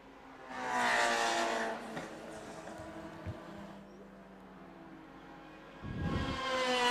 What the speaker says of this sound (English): And here comes Matthew Wildridge in 5th in the Escort.